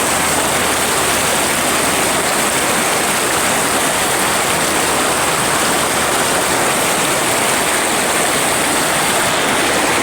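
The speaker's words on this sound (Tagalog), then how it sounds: "medyo malakas ang agos dito" A river in the Philippines runs with a strong current near a bridge and a makeshift barrier, its steady broadband rush of churning water filling the scene loudly and continuously with no talk.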